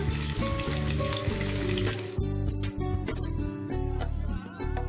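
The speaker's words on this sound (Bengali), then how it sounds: "আমার বাটা মাছগুলো ভাজা হয়ে গেল" Bata fish fry in hot oil with a dense, crackling sizzle, accompanied by clinks and scrapes of a utensil in the pan.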